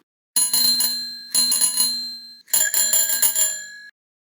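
A bicycle bell rings in three bright metallic bursts of rapid trills, each lasting about a second with short gaps between, loud and close with no other sound.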